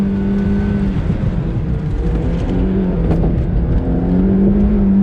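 A 2007 Mazda NC Miata on wide tires runs at full throttle on track, its engine droning loudly and steadily, with a slight rise in pitch near the end.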